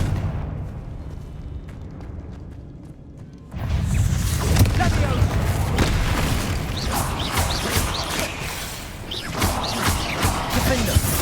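A Confringo fire blast spell in Hogwarts Legacy erupts after a quiet moment into a loud, sustained booming blast with crackling debris and rumbling that continues for several seconds.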